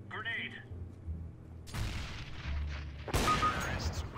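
Gunfire in the video game CS:GO: two sharp, loud shot bursts ring out about a second apart amid game ambience, with a voice talking throughout.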